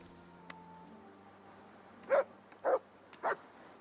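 Three short barks from Mutt, a dog in the video game Kingdom Come Deliverance 2, come alone in a quiet moment, spaced about half a second apart and fairly close.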